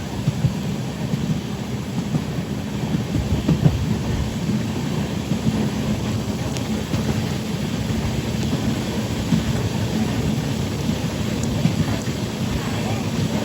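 Passenger train, the Visakhapatnam to Prayagraj weekly special, rolling steadily after leaving a station, with a continuous deep rumble and wheel roar held at an even, loud level throughout.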